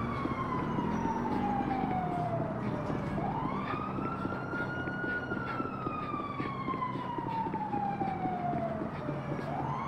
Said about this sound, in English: I think that's my siren in the distance still blaring.